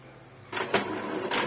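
An Epson L3210 printer, cleaned after flood damage, starts a colour photocopy: quiet hum, then mechanical clunks and whirring feed strokes in uneven bursts, close and moderately loud.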